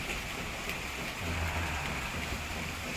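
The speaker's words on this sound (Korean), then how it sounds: "와, 여러분 이 빗소리 들리세요?" Steady rain falls in Vancouver as a constant, close hiss of drops on surfaces, with a low rumble in the background and no one speaking.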